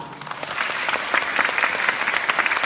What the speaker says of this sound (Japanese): 今一度大きな拍手をよろしくお願いいたします